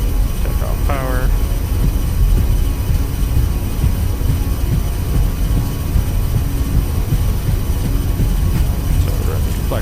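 Airbus A320 engines at max takeoff power in a flight simulator game, a loud steady roar that holds evenly throughout, with a brief tonal chirp near the start.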